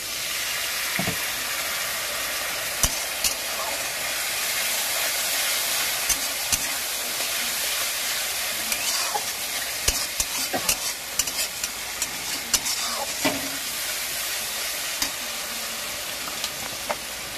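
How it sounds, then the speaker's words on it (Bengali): Spice paste frying and sizzling in a pan with a little water added for a Bengali doi katla kalia fish curry, with a steady loud hiss, clinks and stirring scrapes throughout and no voice. "এবার আমি সামান্য একটু জল দিয়ে দিচ্ছি মশলাটা কষানোর জন্য।"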